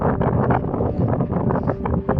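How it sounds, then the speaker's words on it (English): Loud, constant wind buffeting the microphone in the mountains of Lofoten, a rough low rumble with gusty flutter throughout and no voices. "Sorry about the wind."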